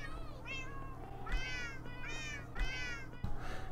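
Minecraft cats give repeated, clear meows in a steady series, four or five calls spaced about a second apart, fairly close over a low background hum.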